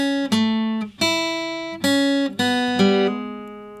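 Acoustic guitar playing the second measure of a song, a run of five clear plucked notes and chords, each ringing out before the next, close and alone with no voices.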